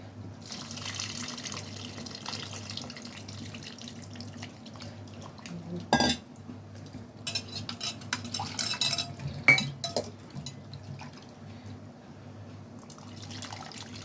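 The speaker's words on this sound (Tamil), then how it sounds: "ஒரு சின்ன எலுமிச்சம்பழ அளவு புளி எடுத்து அதை கரைச்சி வச்சுருக்கோம் அதை இதில் சேர்த்துக்கலாம்" Dissolved tamarind water poured into a simmering village-style dried fish curry, a soft splashing pour with utensil clinks and scrapes against the pot, fairly quiet over a steady low hum.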